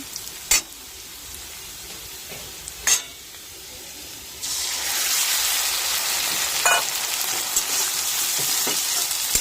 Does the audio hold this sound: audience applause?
no